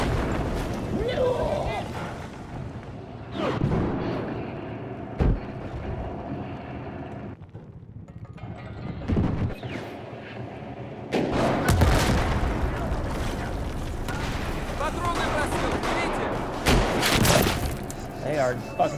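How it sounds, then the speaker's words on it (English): Rocket explosions in Battlefield 4 on the Zavod map: repeated heavy booms and roaring blasts over rushing wind-like noise, a few close together and loud, while players talk. "They are fucking just launching rockets up in this shit."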